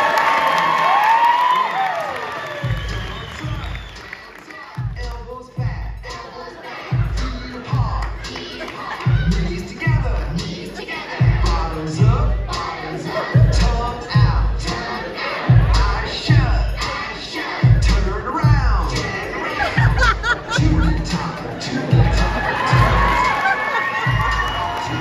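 A crowd cheers, whoops and chants along in a rhythmic, repeated pattern over a steady thumping beat, with shouts rising loudly near the start and end.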